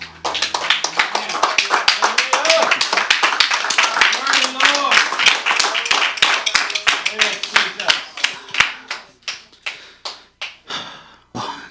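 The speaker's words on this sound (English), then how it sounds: "Can we give the Lord a hand clap this morning?" Church congregation clapping hands together in a lively, roughly rhythmic run of close, loud claps, with voices singing or calling out underneath before the clapping thins into a few final claps.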